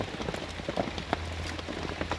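Rain falling steadily during outdoor coconut work in the countryside, a close, constant patter with scattered individual drops tapping over a soft wash.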